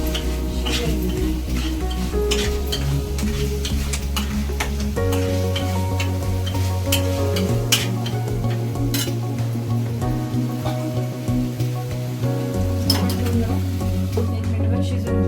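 Chole masala with added spices cooking in a pan, with a steady sizzle and repeated stirring scrapes and taps, under a continuous low hum and soft background music or tones.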